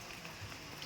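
Light rain in Cherrapunji falls steadily as a faint, even hiss of drops on surfaces, with no voices.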